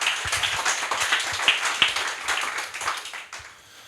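Audience clapping for a speaker taking the stage at a Hamburg conference, a moderate crowd with distinct individual claps standing out, fading near the end.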